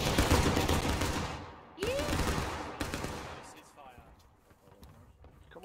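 Muskets fire in volleys during a War of Rights game battle, with loud, dense crackling bursts of shots and a sharp crack near the middle, and voices talking underneath.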